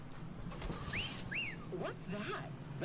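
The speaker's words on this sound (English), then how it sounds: "That's the lemon wash whistle." Lemon wash whistle jingle from the video game L.A. Noire: a few short rising and falling whistled tones, faint and thin over a low background hum.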